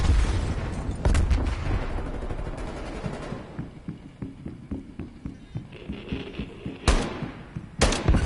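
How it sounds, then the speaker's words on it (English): A Semtex grenade goes off in a first-person video game firefight: heavy broadband blasts land near the start and again late, with a steady rattle of rapid gunfire and sharp cracks between them. "Semtex out."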